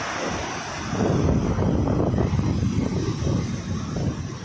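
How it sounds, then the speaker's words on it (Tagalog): Large rough ocean waves roll and crash under strong wind, a heavy low rumble swelling and fading with constant wind buffeting the microphone, loud and close with no voices. "grabe alon"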